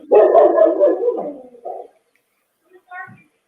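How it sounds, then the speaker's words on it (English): A dog barks several times in quick succession from a played-back recording, followed by a pause and a single softer yip, with a voice speaking around it. "What are you barking at?"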